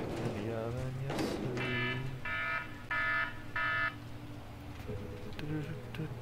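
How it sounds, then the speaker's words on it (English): A buzzing wake-up alarm sounds in short repeated bursts, roughly four evenly spaced pulses, at moderate volume over a steady background hum and some voice. "That's just my time to wake up alarm."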